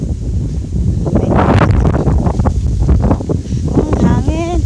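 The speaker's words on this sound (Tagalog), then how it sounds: "oh, hangin." Wind blowing hard across a mountain top near a hilltop church, a loud continuous buffeting rush against the microphone, with people talking over it.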